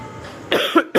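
An elderly man coughs after drinking cold water, three sharp close coughs in quick succession.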